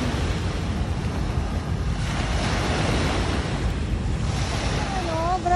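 Strong waves of Manila Bay crash and wash steadily onto Dolomite Beach, a continuous loud surf roar mixed with wind buffeting the microphone.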